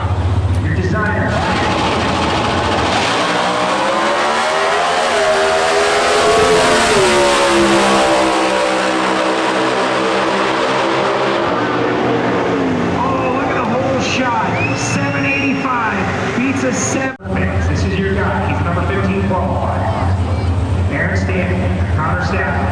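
Factory Stock Showdown drag race cars at the NHRA Summit Nationals in Norwalk, Ohio, roar off the line and accelerate hard down the strip, engines rising in pitch as they pull away, with an announcer talking throughout.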